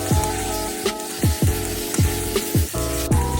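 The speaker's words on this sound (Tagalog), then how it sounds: "nilagay ko na ang mga nilinisan kong hipon. At yan, halu-haluin lang hanggang sa mag golden brown siya" Cleaned shrimp sizzle and crackle in hot margarine with garlic and onion, with a spatula stirring the pan in about six regular scrapes over the steady frying hiss, up close.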